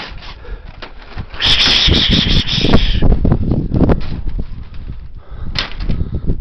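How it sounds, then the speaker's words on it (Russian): Strong wind gusts roar loudly outdoors around a pigeon loft, a continuous rushing buffet that swells and whips in waves for the whole stretch. "Сильный ветер, конечно. Очень сильный."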